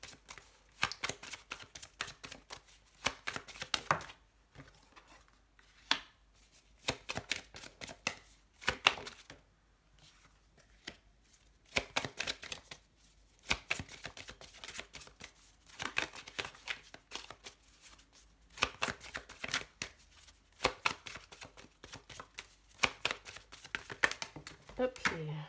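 A tarot deck shuffled by hand in a run of quick, crisp riffling and tapping bursts with short pauses between them, close up, while someone talks softly in French.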